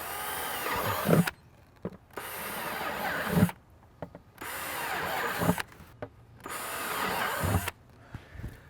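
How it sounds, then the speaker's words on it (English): An electric drill whines in four separate bursts of roughly a second or two each, drilling holes around a bucket's perimeter with its biggest bit, with short quiet gaps between, fairly close. "I picked the biggest bit in my drill kit and I'm just going to go around the perimeter"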